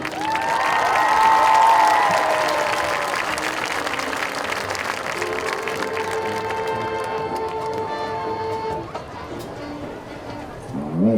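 Crowd applause and cheering in a high school football stadium at halftime during homecoming, Lake City vs McBain, loud at first and easing off, with a public-address voice talking over it.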